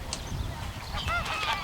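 Ducks near a pond on a disc golf course give a few nasal honking, quacking calls in the distance, faint over steady outdoor wind and background noise.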